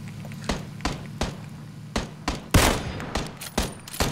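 Gunfire from a vehicle in PUBG: sharp shots in an irregular burst, about eight cracks over four seconds with one louder blast near the middle, over a low steady engine hum.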